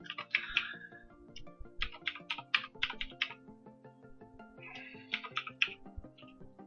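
Someone types on a computer keyboard, with quiet bursts of key clicks in uneven clusters, pausing briefly in the middle before another run of keystrokes.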